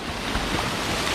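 Rushing water pours down at Mahogany Falls, a dense, continuous roar filling the moment, close and loud, with no voices heard.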